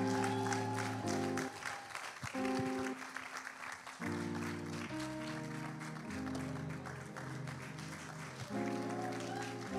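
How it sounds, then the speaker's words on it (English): An audience applauds to welcome a pastor at a church conversation event, steady clapping spread through the crowd under prominent music with sustained tones. "with a rousing warm applause, can we please make welcome Pastor Samson Issa?"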